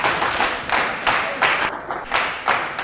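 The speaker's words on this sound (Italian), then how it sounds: "Questo io penso che vada sottolineato con un grande applauso." Crowd applause in a town square celebrating Lecce's promotion to Serie A, rhythmic bursts of clapping in waves about every half second, loud and close.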